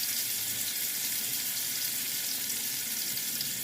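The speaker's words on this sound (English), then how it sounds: "So I'm frying them" Sweet potato slices fry in hot oil over a turned-up flame, giving a steady, close, dense sizzle that holds at an even level throughout with no talking.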